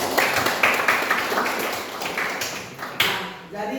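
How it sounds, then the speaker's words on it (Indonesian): A classroom of students claps for a classmate, a dense run of many hand claps with repeated bursts over several seconds, fairly close and steady before trailing off. "terima kasih tepuk tangan untuk dia dong"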